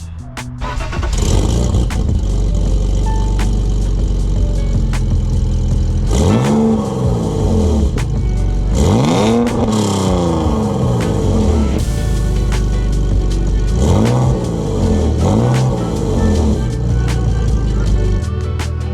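BMW E46 drift car engine starting up and then revving repeatedly, loud and close, with several sharp rising-and-falling throttle blips over a rough, steady idle for nearly twenty seconds.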